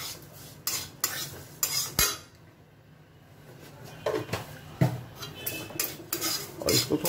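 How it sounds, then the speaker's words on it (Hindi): Dalia (broken wheat) roasts in ghee in a metal pot, stirred with a spoon that clanks and scrapes against the sides in bursts, with a brief quiet pause between spells of stirring. "दलिया भूंज रहा है"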